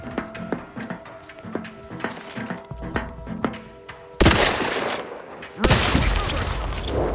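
Gunshots from a headshot in Outer Worlds 2: two sharp, loud blasts, each with a ringing tail, follow a stretch of lighter rhythmic clicks and game sounds.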